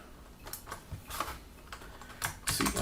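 Keys clatter on a computer keyboard as a Linux install command is typed, bursts of close, crisp clicks coming in uneven clusters and quickening into a dense run near the end.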